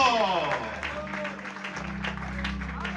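A church congregation claps during an evangelistic sermon. The scattered applause runs under sustained music tones and a speaking voice.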